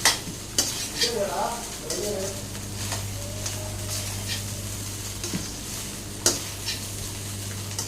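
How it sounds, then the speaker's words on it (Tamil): Fried chicken stirred into fried rice in a pan, close scraping of a spoon against the metal with sharp clanks over a steady low sizzle and a constant background hum. "சிக்கன் எல்லா இடத்துலையும் பரவாயில்லாமல் நல்லா கலந்து விட்டுடலாம்."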